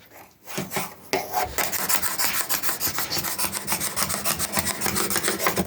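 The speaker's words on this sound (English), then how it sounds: "Because when you're sanding, you want to know that you're sanding this side and this side evenly." Hand sanding of a wooden antique table under repair: steady rhythmic rasping strokes, close and fairly loud, begin after a brief quiet start and repeat evenly back and forth without talk.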